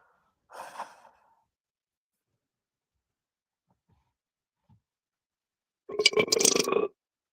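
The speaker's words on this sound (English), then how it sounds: "No, it was a burp." One loud, drawn-out burp of nearly a second comes near the end, close and rough. It follows a soft breathy exhale earlier and near silence in between.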